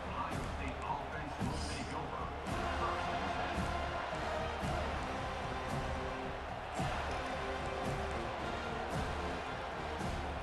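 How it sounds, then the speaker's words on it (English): Stadium crowd noise from a college football video game, Ohio State at Florida State, a broad steady roar swelling in waves under a commentator's voice. "this crowd coming to life here, trying to help the defense get a stop with the offense pinned back"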